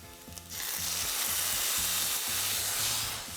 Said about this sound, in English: When the tofu develops this nice golden brown crust, it's time to add 2 teaspoons of soy sauce